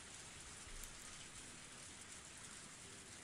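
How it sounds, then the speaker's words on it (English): Rain in the Higurashi visual novel game pours as a steady, even hiss, unbroken from start to finish and heard alone at a low level. "Oh god, we got the full rain."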